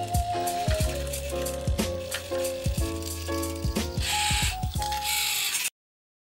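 Toothpick-dispensing robot hand mechanism cycling through its motion: dense mechanical clicking, ratcheting gear whir and repeated sharp taps, steady and close for about six seconds before cutting off abruptly.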